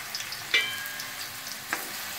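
Onions frying in oil over a medium flame for dum aloo, a soft continuous sizzle up close with a couple of brief spatula clinks as they are gently mixed.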